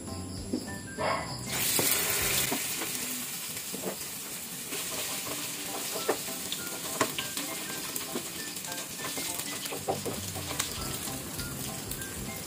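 An egg frying in a hot pan, sizzling steadily and close by, with occasional crackles and stirring clicks throughout and no talk.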